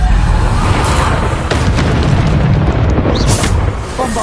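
A Bombarda spell explosion in the video game Hogwarts Legacy, a loud, broad booming blast that rumbles and sustains for several seconds before tapering slightly at the end.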